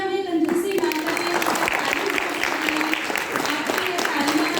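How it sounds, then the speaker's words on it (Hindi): Dense, steady applause from an audience at a cultural function featuring blind artists, filling the whole stretch with even clapping, with a faint tonal hum beneath it. "तालियां में कंजूसी ना करें।"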